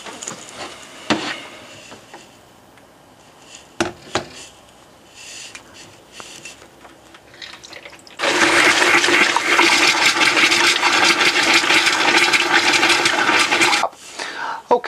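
Water gushes from a caravan tap into a glass jug in a loud, steady rush lasting several seconds, preceded by scattered knocks and clatter and ending abruptly.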